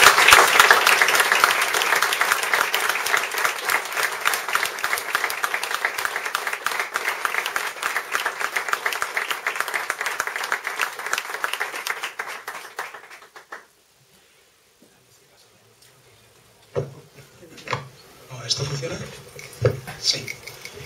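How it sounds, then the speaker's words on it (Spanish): An audience at a tribute to the Spaniards who liberated Paris claps in sustained, loud applause for about thirteen seconds before it stops abruptly, followed by quiet room sounds with scattered knocks and movement. "les brindemos un sentido aplauso a todos ellos"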